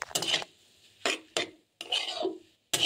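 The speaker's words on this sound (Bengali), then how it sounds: "আরও কিছুক্ষণ ভালো করে এগুলোকে একসাথে মিলে ভাজতে থাকবো।" Noodles and vegetables are stir-fried in a pan, heard as several short, close scraping and clattering bursts of a utensil against metal, separated by brief silences, with no voices.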